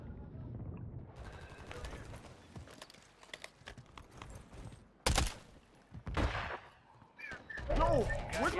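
Gunfire in Warzone 3 Resurgence, including a max-mobility UZI (WSP-9): scattered shots and sharp bursts, the loudest near the middle and a cluster toward the end, mixed with game sounds and an occasional voice.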